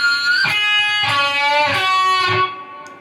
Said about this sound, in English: pinch harmonics galore